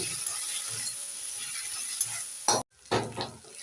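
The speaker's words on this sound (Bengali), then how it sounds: "দিয়ে দেবো হলুদ আর লঙ্কা গুঁড়ো দিয়ে নেড়ে ফেড়ে দু মিনিট একটু কষে নেব" Turmeric and chili powder stir-fried in a pan for a channa masala, a steady faint sizzle with soft scraping strokes, broken by a sharp clatter and a brief pause near the end before stirring resumes.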